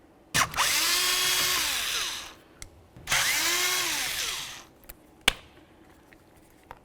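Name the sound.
power tool removing T20 screws from Chevrolet Tahoe steering wheel panel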